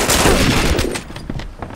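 Rapid automatic gunfire from a machine gun in The Regiment, a video game's embassy assault, a dense loud burst of overlapping shots that thins into scattered cracks toward the end.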